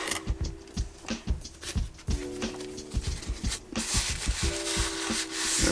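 Coffee being rubbed by hand as a stain onto a wooden cutting board, a steady close scrubbing rhythm of repeated short strokes with brief pauses, no talk.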